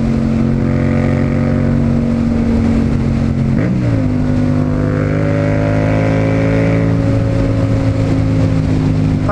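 Yamaha MT-07 motorcycle engine roaring steadily on an open road, a loud continuous drone with a brief pitch dip and recovery as the rider shifts, heard close up with wind noise and no talk.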